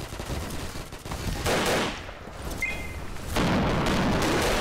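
Dense, loud video-game gunfire with continuous rattling bursts, a short lull in the middle, then heavy shooting resumes.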